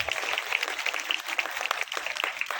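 Audience applause at a stage program with Gujarati film artists, a dense steady clapping crowd that carries on throughout without a break.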